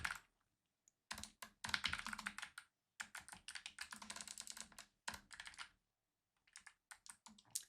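Keys clatter on a computer keyboard in short bursts of rapid typing separated by brief pauses, close and fairly quiet, with no talking.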